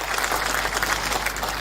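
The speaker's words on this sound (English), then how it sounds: "A clap for the gift for His Excellency" An audience at a national productivity and performance conference applauds a gift presentation, a steady, dense wash of clapping that stays loud throughout.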